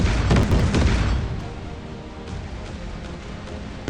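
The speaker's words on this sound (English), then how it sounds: "Initiating missile strike." A missile strike explosion in the Warships Mobile naval game opens with a loud, dense boom that rolls into a long, fading rumble, heard alone without voices.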